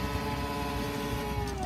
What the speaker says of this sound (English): put your foot on the pedal and rev the thing and hear the engine sound